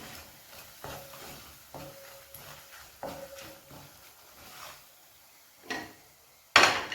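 Ground coriander and cumin powder being stirred into a pan for Hyderabadi green chicken: soft, repeated scraping strokes with a light sizzle, close and steady, ending with a sharper clatter.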